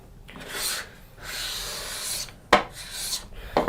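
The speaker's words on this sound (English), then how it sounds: "I'm going to use a cabinet scraper." A cabinet scraper scrapes wood for a Shaker table in a workshop, giving several close, raspy strokes of steady friction separated by short pauses, with sharper scuffs near the end.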